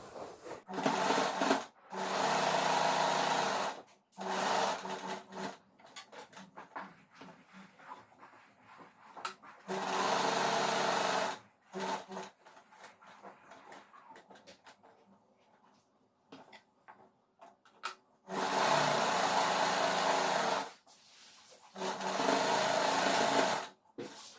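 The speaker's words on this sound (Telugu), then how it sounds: "దీన్ని ఇప్పుడు స్టిచ్ చేసుకుందాం." A sewing machine stitches a nightsuit pocket in several steady, loud whirring runs of a few seconds each, separated by quiet pauses with faint handling of cloth.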